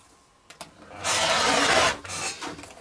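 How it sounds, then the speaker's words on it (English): Old denim jeans being cut into strips about three-quarters of an inch wide along a straight edge for a woven rug, a close, steady rasping cut lasting about a second, with a few light handling knocks before and after. "So I'm just going to start with a straight edge and cut these to be approximately, give or take, 3/4 of an inch wide."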